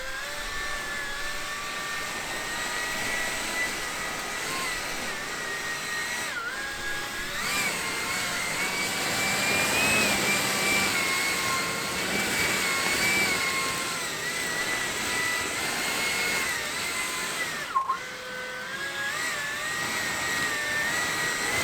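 STIHL BGA 60 battery leaf blower clearing leaves around a garden railroad, a continuous mid-pitched whoosh and whine that swells and eases slightly as the nozzle moves, with a short break near the end.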